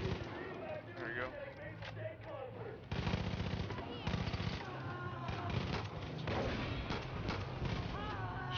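Gunfire in the shooter game Far Cry 5, rapid automatic bursts layered under game music and effects, with a player talking over the action.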